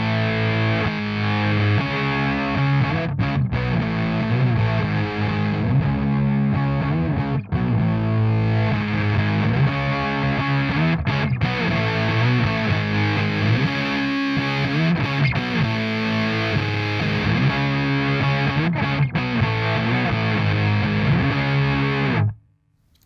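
An electric guitar plays through a Dunlop MXR Hendrix '69 Psych Band of Gypsys fuzz pedal, a thick, saturated fuzz tone with continuous chords and riffs at steady loudness, cutting off abruptly at the end.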